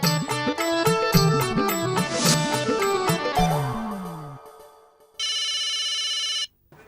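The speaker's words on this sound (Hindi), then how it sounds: "मैंने ये बताने के लिए फोन किया है कि वर्मा जी का फोन आके गया है" A telephone rings alone after a stretch of music: a repeating electronic ringtone, loud and near, sounding for about a second and a half before stopping.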